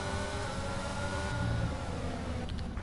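Formula 1 cars race at the Bahrain Grand Prix in F1 2022. There is a continuous, fairly loud engine whine and revving, with pitch shifting as the cars accelerate, and no talk.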